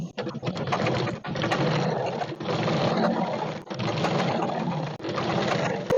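A sewing machine runs in three long stitching bursts with short pauses between them, sewing the side seam of a petticoat made from pajama fabric. The motor is steady and close.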